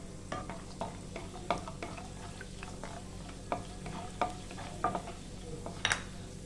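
Cashews fry in a pan for chire pulao, a soft steady sizzle punctuated by scattered scraping taps of a spatula stirring against the pan, with no talking.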